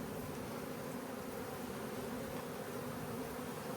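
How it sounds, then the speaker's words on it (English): Honey bees buzz in a dense, steady drone as they are shaken off hive frames into an empty receptacle, a continuous close swarm hum with no other sounds. "I'm just using this as a shaking receptacle for the bees that are going to be coming off of these frames."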